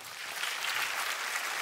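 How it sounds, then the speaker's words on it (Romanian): Audience applause at a stand-up comedy set in a talent show, a steady, even roar of many hands clapping that holds at a constant level throughout. "aplauze!"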